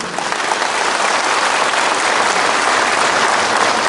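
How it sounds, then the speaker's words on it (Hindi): Loud, sustained audience applause at a political community gathering, dense clapping holding steady and close for the whole stretch, with no talk over it. "तो जोर से ताली दो।"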